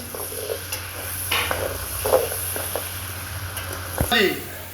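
Onions and tomatoes for capsicum chicken fry and sizzle in a pan, with a utensil stirring and clinking in short bursts while someone talks over the cooking.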